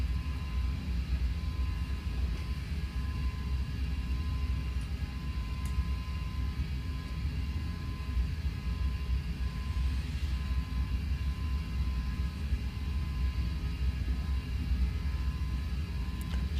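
An airliner climbing and accelerating after takeoff in a flight simulator game gives a steady, loud engine roar and broadband rumble with a faint whine, unchanging throughout and without talk.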